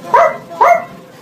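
A person mimics a dog with two quick, voiced barks, close and fairly loud, about half a second apart.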